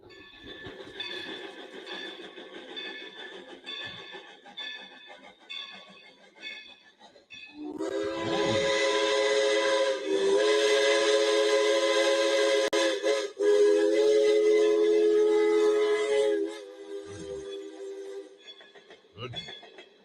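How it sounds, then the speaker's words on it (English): A steam train rumbles past a crossing with a loud, sustained whistle blast and rattling wheels, preceded by quieter mechanical clatter, fading out toward the end. "I found free sound effects. Steam train at crossing."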